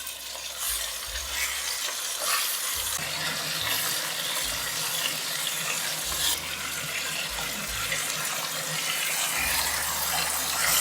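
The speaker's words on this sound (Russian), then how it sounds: "И чтобы мясо именно жарилось сейчас, а не тушилось. Жарю на большом огне." Pieces of meat frying in a pot on the stovetop over high heat, a loud continuous sizzle with steady crackling and no talk.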